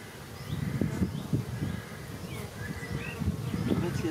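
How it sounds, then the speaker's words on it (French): Honeybees buzz around an open hive, a continuous dense hum with faint rustling and scattered knocks of handling close by, and no clear speech over it. "donc c'est tous des abeilles au boulot."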